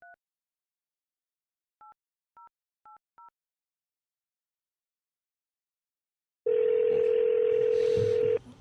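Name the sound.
telephone dial tone and dialing while calling someone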